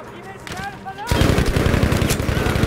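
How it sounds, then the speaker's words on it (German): Rapid bursts of enemy gunfire in the Battlefield V campaign erupt after a second of voices, then continue as a dense, loud stream of close shots to the end. "Die schießen scharf."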